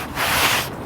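A brush scrubbing an engine bay during a Purple Power degreaser cleaning makes a brief, close, scratchy rubbing swish that lasts under a second.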